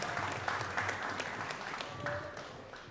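Audience applauding for Omar, a high school football player, at a team spotlight event: a steady round of many hands clapping, moderately loud, with a few sharper individual claps standing out and faint crowd murmur beneath.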